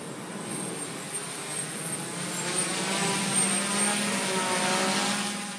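A model V-22 Osprey tiltrotor's electric propellers whir steadily while it hovers with the wing attached, a continuous high-pitched buzz that swells slightly in the middle of the stretch, with no talking.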